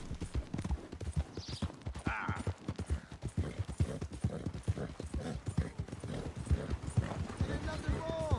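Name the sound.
horse hooves in video game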